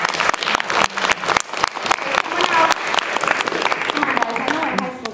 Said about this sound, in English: Give Danielle a big round of applause